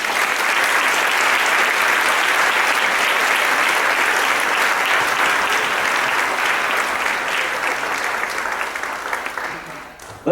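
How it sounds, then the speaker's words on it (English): Wedding guests at a ceremony give a loud, sustained round of applause that fills the room for about ten seconds before it starts to taper off. "Let's give one more big round of applause for the first set of speakers."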